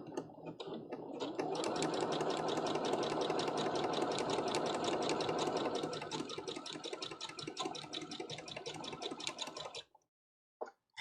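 A sewing machine quilting in a steady, fast, rhythmic run of needle strokes, loud and close, that stops abruptly near the end and leaves a brief silence, with no talk.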